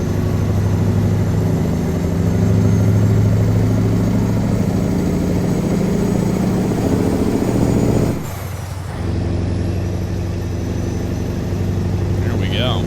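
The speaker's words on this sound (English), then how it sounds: "I'm gonna roll my windows down so we can listen to the engine of this thing a little bit more." A simulated truck engine from American Truck Simulator rumbles steadily with the windows down, a low continuous drone that briefly drops away near the end before resuming.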